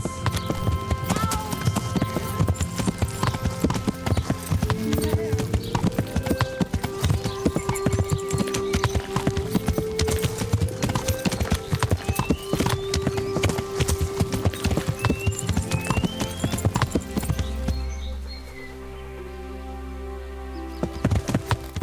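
Steady clip-clop of horse hooves trotting throughout in the video game Kingdom Come: Deliverance, with occasional bird calls and a brief lull near the end.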